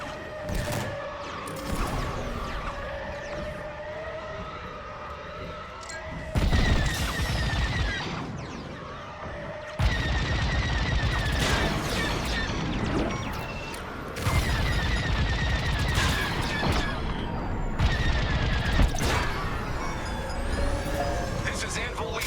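Blaster fire and explosions from enemy starfighters in Star Wars Squadrons crackle in loud, continuous bursts, with engine roar and mechanical effects throughout and abrupt swells as new volleys hit.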